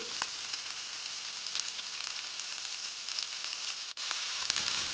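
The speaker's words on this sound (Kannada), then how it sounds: "ಒಣಮೆಣಸು ಹಾಗೂ ಕರಿಬೇವು ಆಮೇಲೆ ಬೇಯಿಸಿದ ಬೀಟ್ರೂಟ್ ಹಾಕಿ ಚೆನ್ನಾಗಿ ಬೆರೆಸಿಕೊಳ್ಳಿ" Cooked beetroot sizzles and is stirred in a pan with dried chillies, curry leaves and mustard seeds, giving a steady hiss with scattered small crackles and one brief scrape, no talking.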